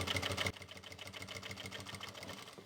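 A sewing machine stitches fabric onto a sari belt, a close, steady motor hum with rapid needle ticking throughout, slightly louder for the first half second.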